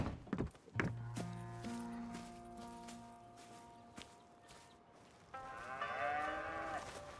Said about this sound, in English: I was going to milk the cows.